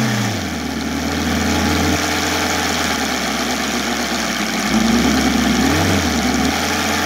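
An OS Sirius 7 FR7-420 seven-cylinder radial engine, converted to gasoline with CH Ignitions CDI, runs on a model plane with a steady loud drone and pitch shifts, heard close and continuously throughout.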